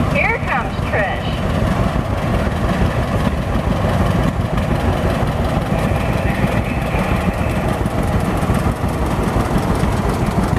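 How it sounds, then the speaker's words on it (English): A John Deere A antique tractor engine chugs steadily at a tractor parade, loud and continuous throughout, with crowd noise and voices mixed in around it. "it's a John Deere A."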